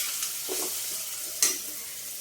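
Onions and green chillies hit hot oil with spluttering mustard seeds for gongura chicken curry, a steady close sizzle with stirring scrapes and one sharp crackle near the end.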